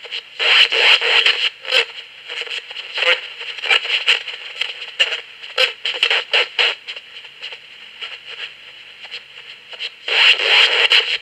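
A CoopBox 22 ghost box radio sweeps with echo switched on, giving loud, rapid choppy bursts of crackly static and fragmented radio snippets that stutter and smear together close up.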